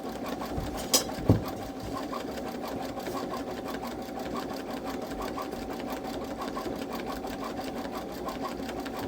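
A Babylock Solaris 3 embroidery machine stitches in the hoop on white fabric with a steady, fast, rapid needle rhythm, moderately quiet and continuous, with a couple of brief clicks near the start.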